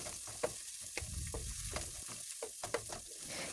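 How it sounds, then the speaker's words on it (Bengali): Cabbage stir-fried with chopped green and dried chilies, a spatula scraping and tossing it in the pan with repeated knocks over a steady close sizzle, no voices. "এখন দিয়ে দিব শুকনা মরিচ কুচি দিয়ে কিছুক্ষণ নেড়েচেড়ে মিশিয়ে নেব।"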